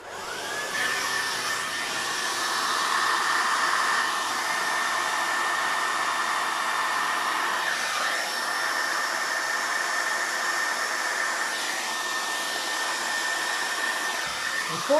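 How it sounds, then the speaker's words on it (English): A hair dryer runs steadily at close range for the whole stretch, a continuous loud whirring blow with a high whine, starting up at the beginning with no talking over it. "now I want a hairdryer on first, and then I'm going to just give it a blast."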